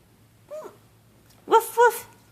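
A young child imitates a dog, giving one short bark and then two louder barks close together, near and clear against a quiet room.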